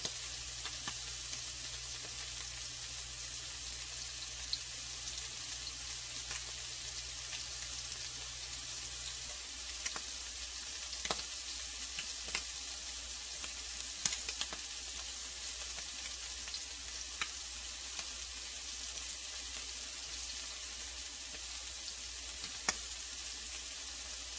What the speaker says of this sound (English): Sear them in the pan.